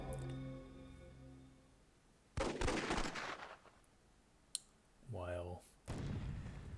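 Cannon fire in the WWII-themed Myth II Soulblighter game: several sharp booming shots with noisy crackling tails, spaced apart and fairly distant, along with a rising whistle-like tone and other battle effects.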